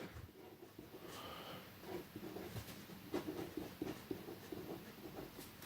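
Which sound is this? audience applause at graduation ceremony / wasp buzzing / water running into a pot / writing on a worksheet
writing on a worksheet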